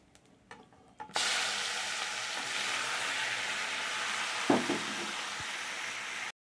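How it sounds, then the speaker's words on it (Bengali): Mutton drops into hot oil tempered with cumin and bay leaf. A sharp sizzle bursts in after a second of near quiet and holds steady, with a brief stir-like clatter near the end. "মাংসটাকে দিয়ে দিচ্ছি।"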